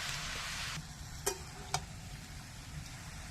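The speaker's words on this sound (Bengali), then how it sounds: "পুঁই শাকটা নাড়াচাড়া করে মিশিয়ে দেবো।" Malabar spinach being stirred into sizzling spices in a pan, a steady frying hiss with two sharp clinks of the utensil against the pan partway through.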